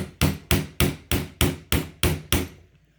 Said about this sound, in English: I may not be able to go any further with the hammer.